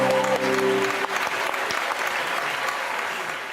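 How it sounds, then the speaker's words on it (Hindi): A game show studio audience applauds a TikTok star. Dense, continuous clapping holds steady the whole time before tapering slightly toward the end. "भरपूर ताली होनी चाहिए।"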